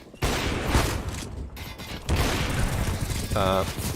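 Gunfire in a competitive CS GO match on Overpass: two sharp, loud shots with rumbling tails a couple of seconds apart, then a short mechanical rattle, all nearby and with no voices.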